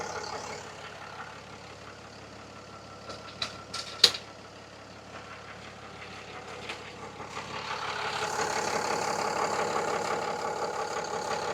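A vehicle engine idles steadily with its air-conditioning compressor running and a cooling fan turning slowly, a constant low hum broken by a few sharp clicks near the middle before a brighter hiss swells toward the end.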